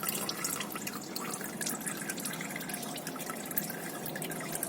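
Engine oil drains from a loosened oil filter on a VW Beetle, dripping and trickling steadily onto pipes below in a continuous close patter with no speech.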